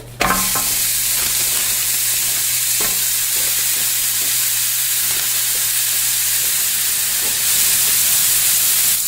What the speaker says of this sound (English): you're going to get your patties onto your griddle